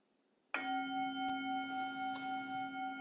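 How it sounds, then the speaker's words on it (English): A meditation bell is struck once during a mindfulness session, a clear sudden strike after silence that rings on with a steady, slowly pulsing sustained tone. "And then second bell,"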